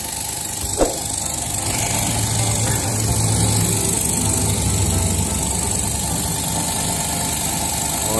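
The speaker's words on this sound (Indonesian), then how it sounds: "langsung saja kita hubungkan ke tegangan bagaimana mesin ini atau dinamo ini bekerja" A faulty Wipro air compressor motor that will not build pressure runs steadily with a constant droning hum and vibration, a single click near the start, no talking.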